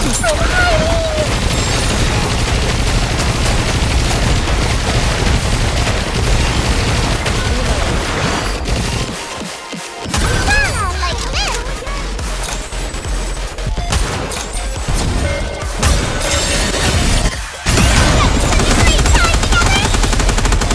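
Dense gunfire and heavy explosions from the anime-style shooter game Goddess of Victory: Nikke, a loud, continuous barrage with booming impacts and game music, briefly dropping out before resuming at full intensity.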